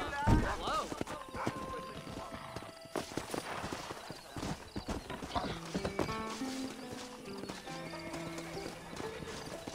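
A mare's hooves clip-clop in a Red Dead Redemption game scene, a steady run of quick hoofbeats with a whinny near the start, under music and talking voices.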